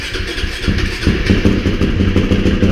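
A Kia engine with the choke on cranks and catches, then settles into a rough, clattering idle close by, with no voices over it.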